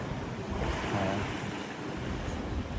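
Waves and strong wind at sea wash steadily around a large cruise ship out on open water, a dense, even roar that continues with no break and no voices.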